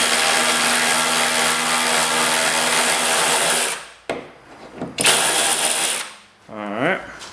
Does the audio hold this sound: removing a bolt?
yes